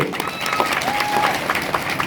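An audience at a tribal gathering for a statue installation applauds in tribute to a late woman, a short burst of steady clapping with faint voices over it.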